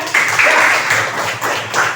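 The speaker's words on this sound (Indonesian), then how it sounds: "Bagus sekali ya, tepuk tangan ya." Students in a physical education class clap for a classmate's answer, a short, dense burst of applause lasting about two seconds, fairly close and loud.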